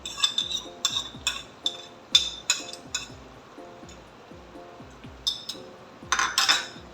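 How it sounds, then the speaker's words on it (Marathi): Pigeon pea pods tipped into a pan and stirred, giving repeated clinks and scrapes of a utensil against cookware with soft rustling, close and steady with no talk. "आता आपण ह्याच्यामध्ये तुरीच्या शेंगा टाकणार आहोत"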